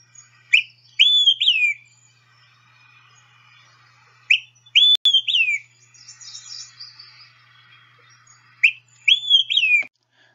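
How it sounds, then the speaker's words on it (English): An olive-sided flycatcher repeats its clear whistled three-note song three times at steady intervals, bright and fairly close with quiet gaps between phrases. "the olive-sided flycatcher's call is one of my favorite calls of any bird"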